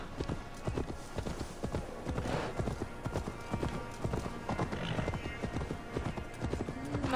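A fast horse gallops in the video game Assassin's Creed Valhalla, its hooves beating a quick, steady clip-clop rhythm close by for several seconds, with faint talk underneath.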